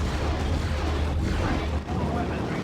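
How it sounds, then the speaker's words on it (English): Dense, continuous rumbling barrage of gunfire and booms in Dawn of War 2 with the Eternal mod, loud and unbroken throughout with no clear gaps between shots. "There was another Hail Mary of gunfire."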